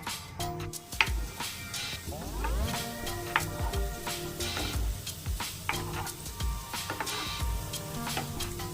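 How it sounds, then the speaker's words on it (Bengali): Kalojam sweets dropped into hot oil one at a time and frying, producing a continuous close bubbling crackle with scattered sharp ticks and pops and some tonal rattling, fairly loud. "এবার তেল দিয়ে ভাজবো এগুলো তেলটা গরম হয়েছে এবার দিয়ে দিই একটা একটা করে"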